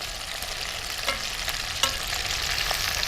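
Chicken pieces for popcorn chicken frying in hot oil, a steady close sizzle with occasional sharper crackles and pops, no voices.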